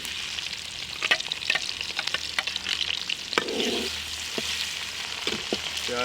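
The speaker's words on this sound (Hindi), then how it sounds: "अब हम इसमें प्याज डाल देंगे।" Onions fry in hot ghee with a steady, close crackling sizzle, broken by occasional clinks and scrapes of a stirring spoon against the pan, with no one talking.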